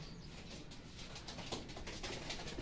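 Racing pigeons cooing during a 114 km training flight in San Quintin, Pangasinan, with soft repeated coos and a little wing flutter over steady outdoor background noise.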